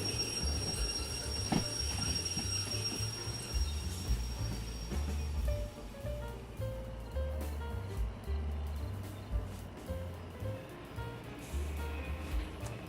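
Freight wagons are shunted in a train simulation game: a low, rumbling locomotive drone with shifting engine tones, faint wheel squeal and clanks, fairly quiet and continuous.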